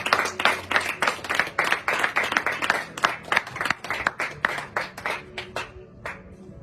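A church congregation claps in steady rhythmic unison to acclaim the Lord, loud and close with no voices, slowing and fading out near the end.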